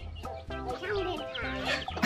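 Several chickens in a flock cluck close by in quick, repeated bursts of short calls, some overlapping, with a faint voice in the background.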